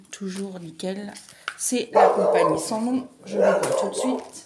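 A pet dog barks and yips repeatedly indoors, the sharp barks close and loud, overlapping someone speaking.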